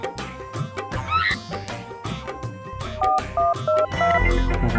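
Rapid telephone keypad dialing tones, a quick run of short, loud electronic beeps with steady pitches stepping up and down, close by and alone.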